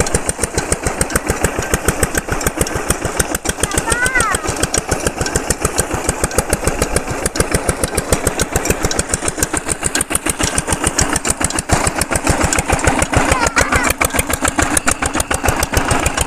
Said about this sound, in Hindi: ये डीजल इंजन जो है वो चल रहा है।